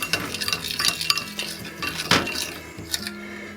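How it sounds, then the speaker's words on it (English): Salt and pepper seasoning stirred in a bowl, a few close clinks and scrapes of a utensil against the dish over a short quiet stretch. "Give a good stir."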